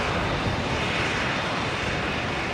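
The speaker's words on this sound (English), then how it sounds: "Jetstar 575 heading off there to Melbourne from 19er left." A Jetstar jet airliner takes off from runway 19 left at Brisbane airport, its engines a loud, continuous broadband roar that holds steady throughout with no voices.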